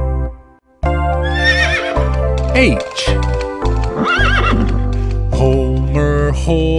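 A horse neighs and whinnies loudly within a children's animal alphabet song, its cry standing out against the music, with singing running through the rest of the passage.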